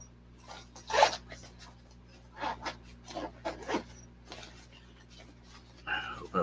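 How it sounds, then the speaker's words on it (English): A bag zipper is pulled open close by in several short, rasping strokes with brief pauses between them. "Open up the other zipper."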